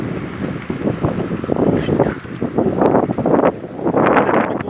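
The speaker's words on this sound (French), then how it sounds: "Oh, le vent il se lève là." Wind rises in gusts before a moderate thunderstorm with heavy rain in Livron, Drôme, France, buffeting the microphone in loud, uneven surges that swell and ease throughout.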